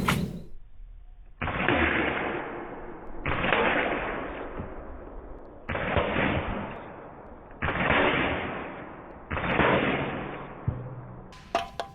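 A Sig Sauer P320-X Carry CO2 blowback BB pistol fires five distinct shots, each a sharp crack followed by a long ringing decay, spaced about two seconds apart and heard loud and close.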